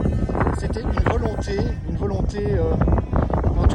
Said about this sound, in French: Désolé, il y a déjà beaucoup de vent.